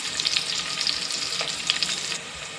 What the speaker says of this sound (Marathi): त्याच्यामध्ये तेल गरम झालेलं आहे, त्याच्यामध्ये आपण टाकूया कांदा.